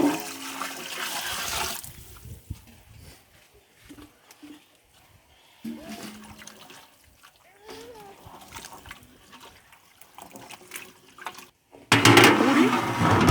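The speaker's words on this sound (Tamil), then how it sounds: "இப்போ காய்கறி வேவுறதுக்கு தேவையான அளவு தண்ணி ஊற்றிடலாம்." Water pours into a large pot of vegetables for hotel-style parotta salna made for 200 people, with loud gushing bursts at the start and again near the end and quieter clatter and splashes in between.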